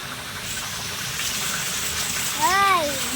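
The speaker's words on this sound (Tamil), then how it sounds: "தண்ணியை வேஸ்ட் பண்ணி குளிக்கிறாரு அப்பா" Water gushes steadily close by as someone bathes, with a voice rising briefly over the splashing.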